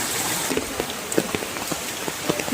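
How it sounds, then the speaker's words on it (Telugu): Steady heavy rain pours down, with drops pattering and splashing irregularly on nearby surfaces throughout. "వర్షం నాన్ స్టాప్గా పడుతూనే ఉంది"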